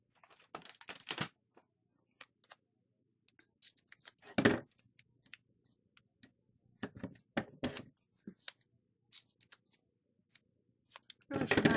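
Scissors snip paper while making a handmade card, a sequence of sharp, close crisp cuts in irregular bursts separated by quiet pauses.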